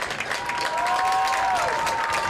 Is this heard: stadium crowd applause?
yes